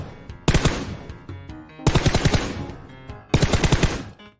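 Automatic gunfire in a PUBG-style shooter game: three loud, close bursts of rapid shots, each a fast rattling string of reports that cuts off sharply, with brief quiet between bursts.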